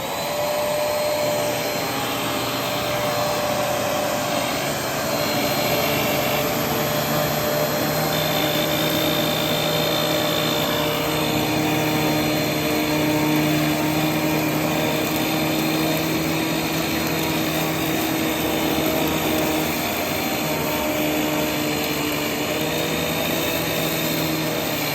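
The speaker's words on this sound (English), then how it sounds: "there's a weird brush roll sound, and it's really amplified through the camera" Riccar R25D upright vacuum running continuously with a rattling brush roll, a loud, steady motor drone with a faint underlying rattle throughout, no voices.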